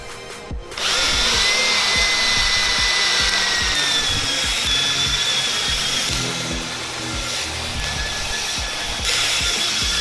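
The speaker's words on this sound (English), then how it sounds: "the first step of this process is to use the arbor with the sanding pad" A power drill whirs steadily with a sanding pad grinding against a car headlight, a loud, continuous buzz with a gritty scraping texture.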